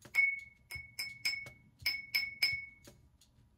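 Vitrified cone 6 glazed ceramic pottery piece tapped about eight times, each tap giving a bright ringing ping that decays quickly, quiet and close with short pauses between strikes.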